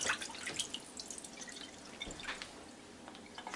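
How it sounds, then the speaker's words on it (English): Juice from a ham just cut out of its plastic bag drains into a kitchen sink as a steady trickle with scattered drips, soft and close throughout. "And we're going to drain out the juice,"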